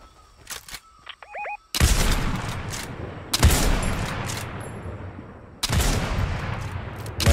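Loud sniper gunfire in the Fortnite video game, with several sharp shots echoing in separate bursts, preceded by brief quieter game effects.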